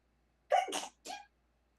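A single sharp sneeze bursts out up close in a quiet room, a brief two-part explosive release followed by a short trailing breath, loud against near silence.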